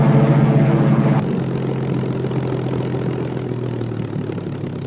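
Hawker Hurricane fighter aircraft of a squadron taxiing out and taking off, a loud steady propeller engine drone that drops in pitch and level after about a second, then continues as a sustained rumble.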